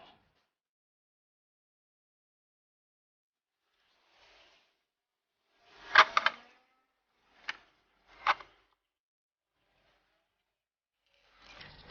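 Size 12 wrench tightening a brake line fitting with a copper washer during a disc brake repair, giving a few sparse ratcheting clicks and short metallic bursts, close and fairly quiet, with silence between them.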